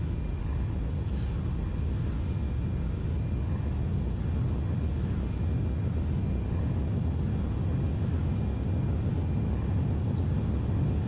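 Airplane engine in the X-Plane 11 flight simulator, G1000-equipped aircraft, a constant low, dense drone without change throughout.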